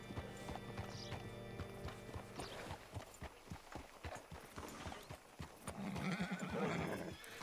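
In the video game Red Dead Redemption 2, the rhythmic clip-clop of horse hooves trots close by, ending in a loud, drawn-out whinny, with steady tonal music running underneath.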